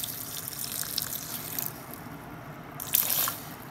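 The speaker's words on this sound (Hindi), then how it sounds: "तो ये थोड़ा सा हमने पानी ऐड कर दिया है" Water poured into homemade juice: soft, faint trickling and splashing that swells into a brief, brighter pour near the end, with no talk.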